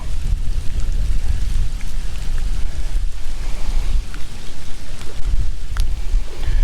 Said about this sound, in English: And we're getting poured on.